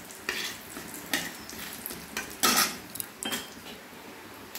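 Bay leaves and two cardamom pods are stirred in three spoons of hot oil in a kadai, giving a soft sizzle broken by a few sharp scrapes and clinks of the spoon against the pan, with no voices.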